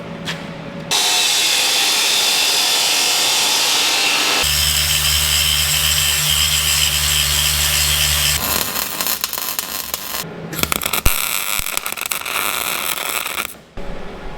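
A power saw cuts a metal strut for a remote cannon install on an army truck converted to a fire truck, a loud steady whine running several seconds, then a rougher grinding cut with clanks, alone without talk.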